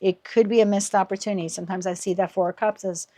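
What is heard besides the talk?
No everyday noises stand out.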